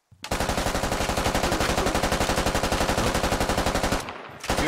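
A long, rapid automatic-weapon burst in the video game Squad rattles loud and close for about four seconds, breaks off briefly, then resumes.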